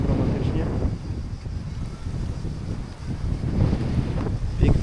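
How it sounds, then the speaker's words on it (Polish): Wind gusting across a seaside campsite on a bay, buffeting the microphone in rough, uneven bursts that swell and ease over about five seconds. "Tylko ten wiatr, całą noc tak samo."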